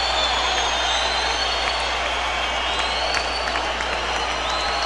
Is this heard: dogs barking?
no